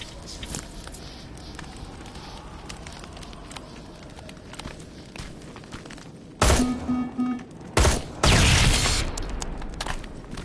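Shooting at enemies in Terminator Resistance, with scattered sharp shots and clicks early, then two loud blasts around six and a half and eight seconds amid rumbling game noise.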